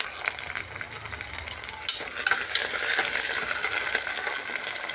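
Onion, bay leaf, chili, garlic and curry leaves fry in a pan with a close, steady sizzle and stirring scrapes, the crackle swelling partway through as more goes in.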